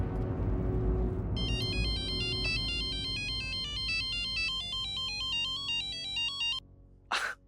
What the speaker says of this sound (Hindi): मिस्टर वागले, मैं अबे इन्हें फोन लगाती हूँ।